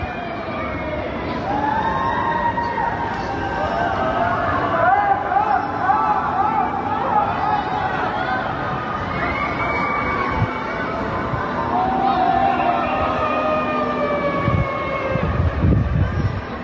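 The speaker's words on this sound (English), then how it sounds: "sirens can be heard in the background as well" Wailing sirens rise and fall over a Shanghai city during a strict Covid lockdown, heard from a distance and layered with crowd noise and distant screaming voices, continuing steadily throughout.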